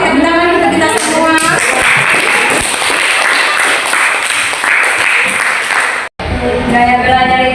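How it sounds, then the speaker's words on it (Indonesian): A group claps together in a classroom session, a loud, busy stretch of hand clapping that runs for several seconds, briefly cuts out, then resumes with a voice in the mix. "tepuk tangan untuk kita semua."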